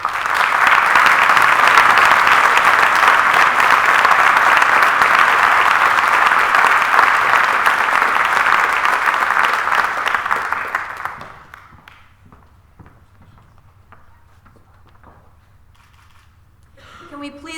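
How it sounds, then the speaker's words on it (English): Loud, sustained applause from a large audience at a college fall convocation, with dense, steady clapping for about eleven seconds before it drops off abruptly into near quiet. "Can we please offer one more rousing round of applause for all of our excellent students?"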